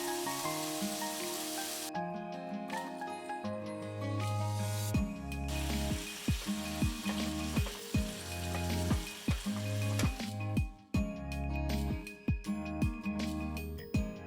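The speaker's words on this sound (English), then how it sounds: "Stir frying for a few minutes" Pork and miso sizzle and crackle in a hot pan as it is stir-fried, with repeated scraping strokes of stirring in an irregular rhythm, music underneath.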